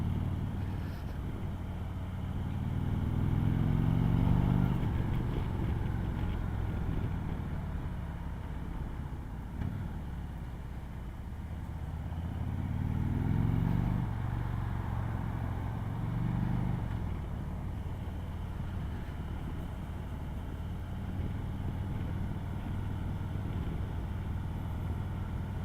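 A 2018 Harley-Davidson Road Glide Special engine rumbling steadily during a ride, a deep low drone that swells and eases twice as the throttle changes, broad wind noise over it, with no speech.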